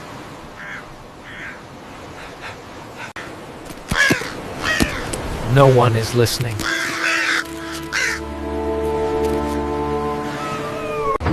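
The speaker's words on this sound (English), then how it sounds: "The crows are giving a warning!" Crows caw loudly and repeatedly nearby, harsh calls overlapping with a person's speech and a steady background hum.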